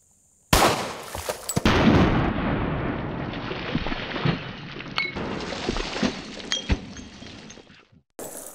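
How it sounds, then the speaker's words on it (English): A .40 Smith & Wesson 200-grain jacketed hollow point round is fired, giving a loud, sharp report with a second sharp crack soon after, then several seconds of sustained rough noise before it cuts off. "shoot a 40 Smith & Wesson 200 grain jacketed hollow point"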